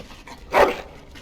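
A dog in the Dragon Age: Origins game lets out a single short yelping whimper, a bright, close cry that rises out of quiet background ambience and fades quickly.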